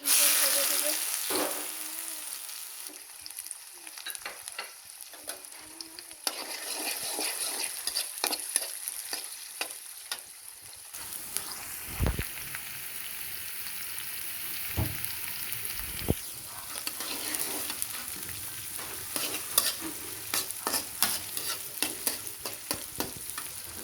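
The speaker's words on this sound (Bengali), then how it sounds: "এখন আমি মাছগুলো কষিয়ে নিব এখানে তেল দিয়েছি তেল দিয়ে নিয়েছি তেলটা গরম হয়ে গেছে" Catfish (magur) sizzling and frying in hot oil with spices and onion, stirred steadily in a pan, with continuous crackle and repeated scraping strokes of a spatula, close and fairly loud, no talking.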